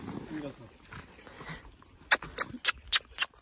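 Hunting dogs chasing a jackal let out about five sharp, evenly spaced barks or yelps near the end, each loud and close, after a stretch of low rumbling outdoor noise with faint voices.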